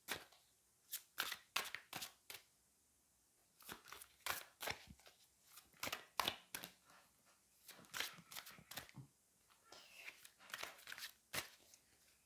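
A deck of cards is shuffled in repeated quick riffles and snaps, close and fairly quiet, coming in short bursts separated by brief pauses.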